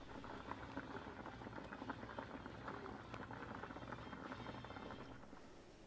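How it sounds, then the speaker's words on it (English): Beets boil steadily in a pot of water, a continuous bubbling and gurgling simmer with small pops, close and even throughout, with no voices. "we're going to bring it to a boil"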